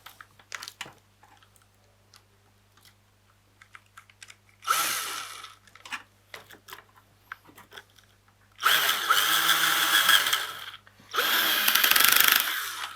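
A small screw on a homemade 12V battery charger being driven with a small power screwdriver, three whirring bursts, the last two longer, separated by light tapping and handling noises, close and without talk.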